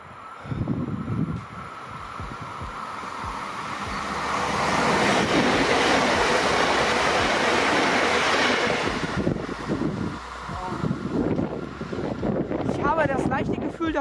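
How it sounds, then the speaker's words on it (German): A train passes on the Left Rhine railway line near Sinzig, its roar swelling from a moderate rumble to a loud peak midway before easing off, with gusty wind buffeting the microphone. "So, da kommt jetzt der nächste Zug."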